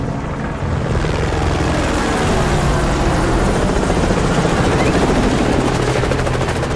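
Helicopters fly in the Call of Duty Modern Warfare 3 video game, a loud, dense rotor and engine roar that fills the scene steadily and continuously.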